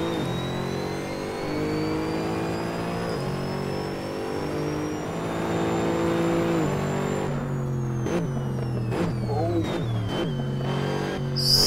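A Mercedes-Benz SLS AMG GT3 race car in Assetto Corsa holds a loud, steady engine note, then drops through a series of quick downshifts with sharp rev blips and stutters near the end.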